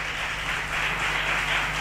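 A congregation clapping at a prayer center, a steady wash of many hands applauding together, moderately loud and even throughout the short stretch, no speech.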